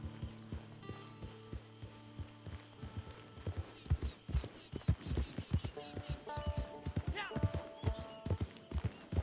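In Red Dead Redemption 2 Online, a horse walks with crisp, fairly close hoof clip-clops in a steady rhythm, picking up into a busier, louder patter toward the end.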